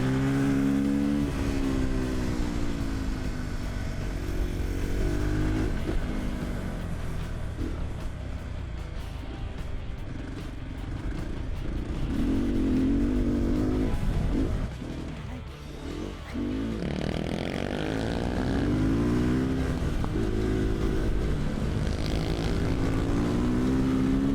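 A two-stroke supermoto motorcycle racing on a track: a loud, close, buzzing engine that rises and falls in pitch as it revs, shifts and accelerates, with a brief dip in the middle before the pitch climbs again.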